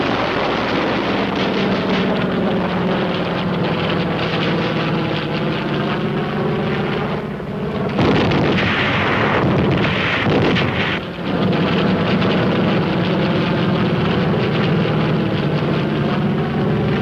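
Navy aircraft roar low overhead on strafing runs, firing rockets. A dense, loud engine drone carries steadily throughout, with a sharper burst of blasts and gunfire near the middle.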